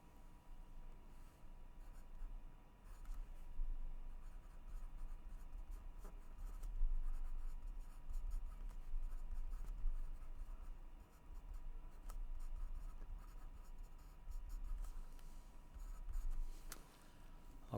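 Handwriting by pen with a steady run of close, scratchy strokes that keep going with short pauses throughout, and no one speaks.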